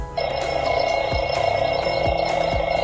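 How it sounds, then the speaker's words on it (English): A continuous old-fashioned telephone bell tone from a USCCE digital radio alarm clock rings loudly and steadily after a click, with a few faint taps underneath. "Old school ringing sound of a phone."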